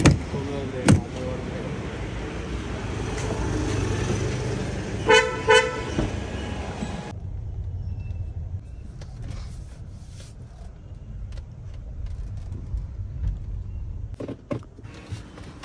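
A car horn toots twice amid vehicle and road noise, followed by a quieter stretch with a low engine rumble and a few soft knocks.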